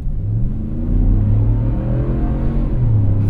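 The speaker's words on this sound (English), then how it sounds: "V8 roar, that's it." A 2024 Ram Rebel pickup's V8 revs with a deep, steady rumble that rises and holds, loud and close, with no talk over it.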